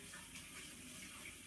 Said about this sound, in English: I'm going to wash my hands in cold water